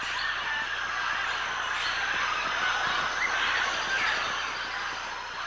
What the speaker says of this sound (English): Each morning, thousands of blue-headed and Amazon parrots and small macaws congregate at a few remote cliffs of clay.